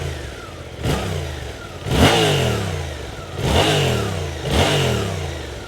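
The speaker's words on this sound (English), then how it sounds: "There's a nice rumble from the exhaust." A Suzuki GSX-8S motorcycle's exhaust rumbles through four rising revs, each surging up and settling back, loud and close, with a steady throbbing engine note between the pulls.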